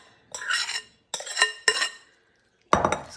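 A spoon scrapes and clinks against a greased 9 by 13 baking dish while chicken salsa casserole mixture is spread out, in three short bursts and a final louder scrape, close and alone.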